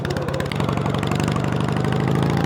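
A snow and mud mower's engine pulling in second gear, a loud, close, steady mechanical drone with a dense pulsing rumble throughout.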